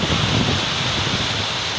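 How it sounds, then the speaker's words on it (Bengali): A steady, dense roar of heavy cyclone rain mixed with gusting strong wind noise, loud and continuous throughout, with no voices. "প্রচণ্ড জোরে বৃষ্টি পড়ছে,"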